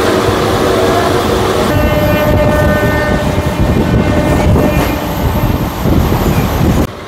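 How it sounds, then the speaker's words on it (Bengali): Local train pulling out from platform 1 at Tamluk station, a loud steady rumble of wheels and engine with a sustained tonal horn-like drone through the middle, heard from on board. "তমলুক স্টেশনের 1 নম্বর প্ল্যাটফর্ম থেকে ট্রেন আমাদের গন্তব্যের উদ্দেশ্যে আবার ছেড়ে দিল।"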